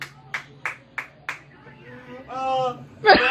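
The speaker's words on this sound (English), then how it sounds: "Clapping like an overexcited 5-year-old." Five quick, sharp claps in a steady rhythm ring out close by, followed by a voice and a short, bright burst at the end.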